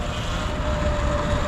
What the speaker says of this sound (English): What's this helicopter hovering over?